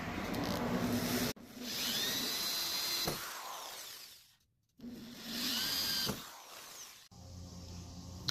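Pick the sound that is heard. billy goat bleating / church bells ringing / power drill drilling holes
power drill drilling holes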